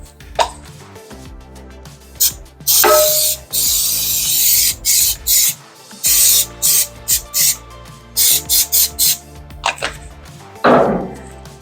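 Dye penetrant cleaner sprayed from an aerosol can onto a cracked, leaking 4L80 transmission case, heard as loud hissing bursts of several seconds, then a run of short rhythmic sprays, close up with no talking.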